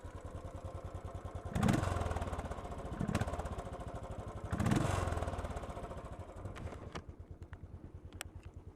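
A 2016 Royal Enfield Bullet 500 single-cylinder engine runs warm at idle with a steady thumping beat, swelling in two throttle blips before settling back to a slow, even idle.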